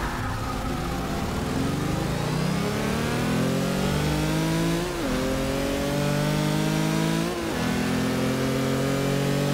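Auto Union Type D race car engine in Forza 6, heard from the cockpit, revving loud and steady as it climbs through the gears, with brief pitch drops at each shift.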